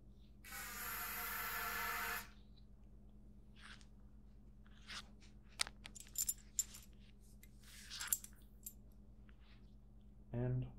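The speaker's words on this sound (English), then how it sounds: "We're going to give the rifle another spritzing with the gun solvent" A trigger spray bottle mists gun solvent onto a rifle in one steady hiss of about two seconds, followed by soft clicks and handling taps, then a short second spritz at the end.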